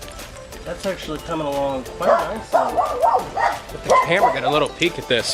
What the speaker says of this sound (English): So excuse the dogs.